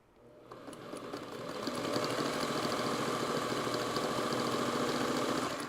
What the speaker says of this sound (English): I am chain piecing so that I don't have to start and end every one of these strips with a leader and an ender.